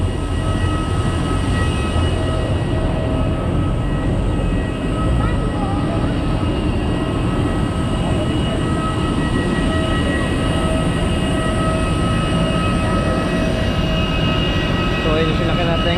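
Steady, loud cabin drone of a Cebu Pacific airliner in flight, a dense broadband roar with faint tonal hum running unbroken throughout, with speech faintly under it.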